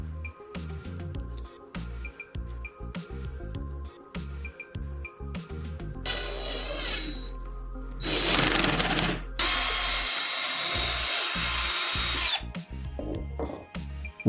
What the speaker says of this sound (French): Insérez le forêt avec le fil enroulé dans la perceuse.